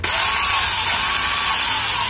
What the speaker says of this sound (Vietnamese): Cái cưa này là cưa 18V ha